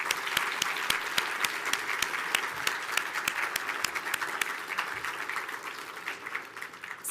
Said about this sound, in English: Please join me in a round of applause for our sponsors.